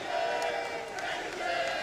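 Arena crowd at the MLG CS:GO Major grand final between Natus Vincere and Luminosity Gaming, a sustained roar of cheering and chanting from a large audience, steady and loud under commentators talking.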